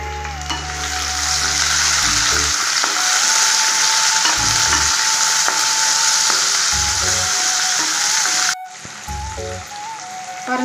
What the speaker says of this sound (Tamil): இப்போ நம்ம தக்காளி சேர்த்து வதக்கலாங்க.